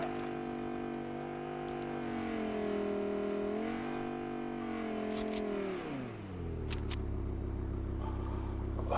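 Car engine in Fortnite, a steady loud motor drone whose pitch rises and falls as the car drives, then drops to a low idle near the end, with a couple of brief clicks.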